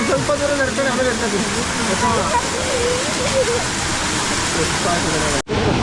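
Apsarakonda waterfall near Honnavar in Uttara Kannada roars with a continuous, dense rush of falling water. A person talks over it, and the sound cuts off abruptly near the end.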